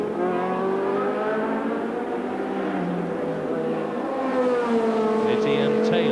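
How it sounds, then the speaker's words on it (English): Racing cars roar past at Brands Hatch during the 1985 Thundersports Trophy, climbing Aylward Hill into Druids; a steady loud engine drone with shifting pitch runs throughout beneath a commentator's voice. "Battle for second, up Aylward Hill, into Druids, Tony Trimmer there."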